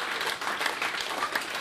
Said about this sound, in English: And you're quite right to applaud.